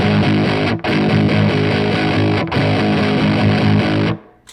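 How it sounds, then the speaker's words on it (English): Heavy, distorted electric guitar riff played through a Digitech Whammy pitch-shifting octave pedal, loud and sustained with dense chugging chords, two brief breaks, then ringing out and fading at the end. "that's the sound you hear, the heavy guitar"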